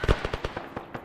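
A frag grenade goes off during trench fighting in Ukraine, giving a sharp close blast followed by a rapid run of crackling pops and bursts that fade within a second.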